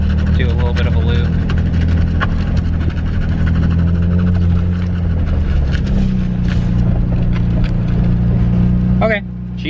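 A drift car's engine idles steadily and loudly up close, a constant low droning rumble that holds throughout before cutting off abruptly near the end, with a voice briefly audible over it.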